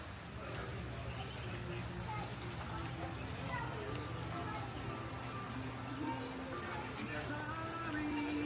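Rain falls at a state park campsite in Ohiopyle, Pennsylvania, a soft steady patter on surfaces with faint distant voices and low background noise underneath.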